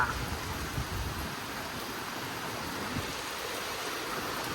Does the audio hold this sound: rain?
yes